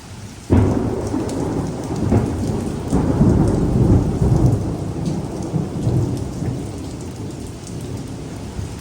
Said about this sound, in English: See if we get a nice lightning strike.